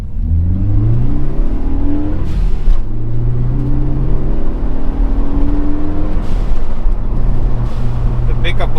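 A Ford Focus ST with an upgraded air filter accelerates hard, its engine note droning loud and steady as it climbs through repeated rising sweeps, heard from inside the car.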